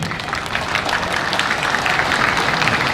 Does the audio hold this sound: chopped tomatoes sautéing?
no